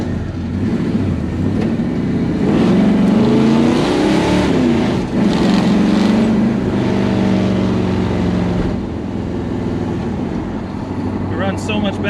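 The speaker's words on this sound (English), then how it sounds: "now that the car runs better, we can drive out to the ranch" A 1964 Plymouth Fury V8 rumbles low and steady while driving off, its engine note rising and falling with gear changes and revs, loud and close, with people talking over it throughout.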